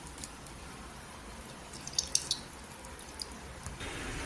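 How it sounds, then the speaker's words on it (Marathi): Water dripping and trickling from boiled soybeans as they are pressed and drained into another vessel, a few close, light drips and splashes over a faint steady background hiss, without speech. "आणि पूर्ण पाणी काढायचं निचरून निचरून दाबून दाबून असं"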